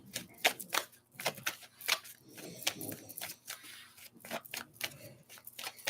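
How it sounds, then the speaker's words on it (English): Tarot cards shuffled and drawn during a reading, a run of quick close papery flicks and riffles in uneven bursts, faint and alone. "Okay, let's pull a couple more cards."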